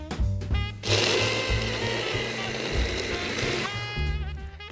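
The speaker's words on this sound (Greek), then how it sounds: "Στο μουλτί μου θα λιώσω τα μπισκότα μου" A food processor crushes digestive biscuits in a loud, continuous whirring grind that runs steadily for about three seconds, with brief motor starts and stops at either end.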